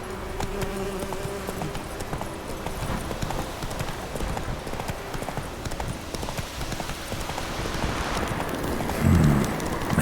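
Roach, the horse in The Witcher 3, gallops with a rapid, continuous clatter of hooves on ground. The pounding is close and steady, with a brief louder burst near the end.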